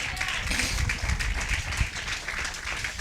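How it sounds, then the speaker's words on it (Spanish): A church congregation applauds together during a sermon, a continuous rustling patter of many hands with some low thumps underneath, steady throughout and without clear speech. "Denle un aplauso al Señor."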